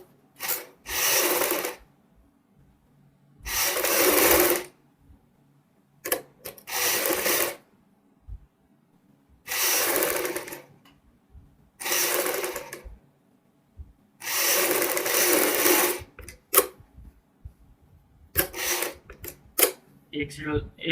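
A sewing machine stitches lace onto a V neckline in about eight loud, separate bursts of rapid whirring, each several seconds long, broken by short quiet pauses.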